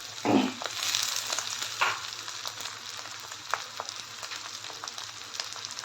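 Sliced large tomato drops into rice frying in a pan, with a burst of sizzle at first and then a steady, hissing fry carrying faint crackles.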